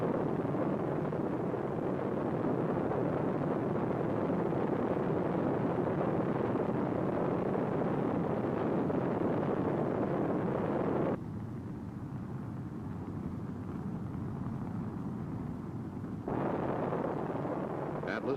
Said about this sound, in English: the Atlas launch vehicle ignites.